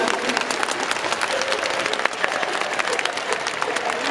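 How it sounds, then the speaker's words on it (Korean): Audience applause for director Kim Jee-woon at a Busan International Film Festival open talk, sustained, dense clapping from a large outdoor crowd, steady throughout. "관객분들 김준 감독님에게 우리"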